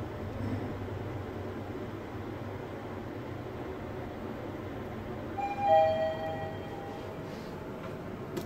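Mitsubishi traction elevator floor arrival chime at a hotel in Bali, a short clear two-tone ding heard once past the midpoint over a steady low machinery hum, fairly faint.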